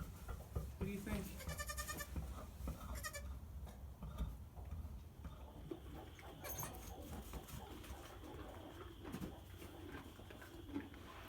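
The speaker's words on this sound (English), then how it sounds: "Silly goats." Young dairy goat kids bleat in short, repeated calls, most clearly early on, mixed with people talking, light knocking and background bustle.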